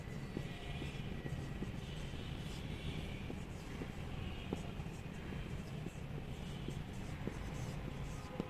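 Pen writing on paper while noting branches of biology, a faint, continuous scratching with small ticks of strokes, set against a steady low hum; no talking.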